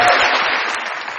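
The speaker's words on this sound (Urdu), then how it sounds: "بہت ساری تالیاں" Studio audience applauding on a television comedy talk show, a brief burst of dense clapping from many hands that starts loud and tapers slightly, close and without talking.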